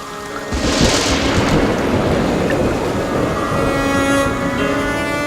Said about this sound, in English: Rain falls in vast quantities in the forest, with millions of litres pouring down each day.